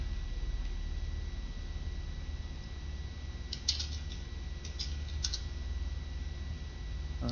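Computer keyboard typing while checking game jam entries: a couple of brief clusters of soft key clicks partway through, faint under a steady broadband background hiss.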